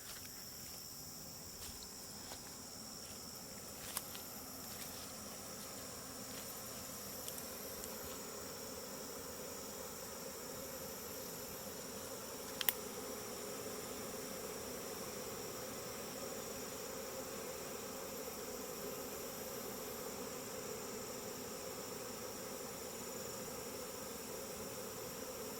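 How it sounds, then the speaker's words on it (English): A honey bee swarm gathering at a hive entrance, a continuous high insect buzz from many bees that holds steady at low level throughout, with a few brief faint clicks. "All the bees are trying to get into the hole and get into the Stadium."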